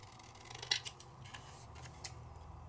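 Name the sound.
cutting card down with scissors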